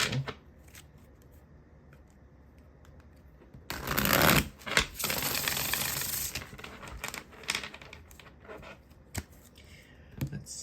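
A deck of tarot cards is shuffled in a quick riffling burst after a quiet start, followed by softer card handling and a few light taps.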